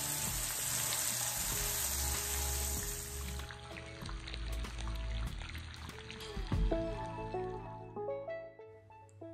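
Steaks searing in a cast iron skillet with extra virgin olive oil and a nub of butter, a loud dense sizzle that eases after a few seconds into crackling and clinking, with a pan knock midway.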